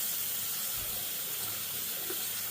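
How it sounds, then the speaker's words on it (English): A kitchen tap runs cold water into a pot for potatoes, giving a steady, even hiss of pouring water that holds at one level from start to finish with no voices. "we're just going to fill this up with cold water"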